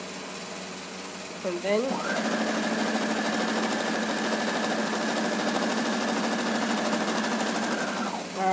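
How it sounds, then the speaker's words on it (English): A sewing machine stitches a straight seam in one continuous run of about six seconds, a fast steady whirring buzz close by, after a brief spoken phrase and a few clicks. "I'll just sew a straight line for that gap that's at the bottom"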